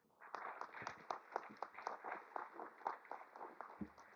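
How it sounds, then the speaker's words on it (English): Hall of Fame audience applauding together, a steady mass of clapping at moderate level that runs for about four seconds before a single deeper thump near the end. "So let's give them a round of applause."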